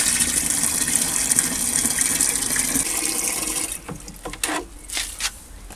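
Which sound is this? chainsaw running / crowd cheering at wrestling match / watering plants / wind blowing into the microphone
watering plants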